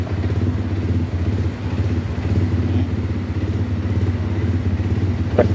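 A Rusi motorcycle engine runs steadily at a close, loud idle with a low rhythmic thrum and light mechanical clatter, continuing without pause.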